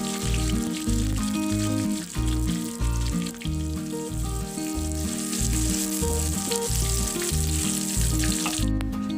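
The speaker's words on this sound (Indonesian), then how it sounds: "sekarang kita goreng dulu." Chili, garlic, shallot, candlenut and dried shrimp frying in oil with a loud, steady sizzle and crackle over a rhythmic background beat, continuous for several seconds without talk.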